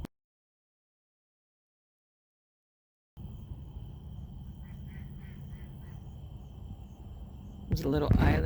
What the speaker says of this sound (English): You can hear the ducks over there.